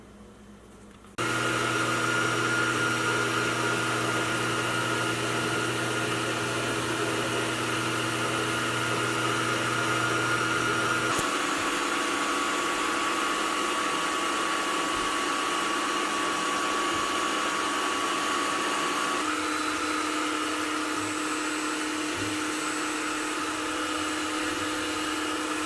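3D printer printing parts bins, a steady mechanical hum with layered stepper-motor tones that shift pitch twice along the way, running alone with no voices.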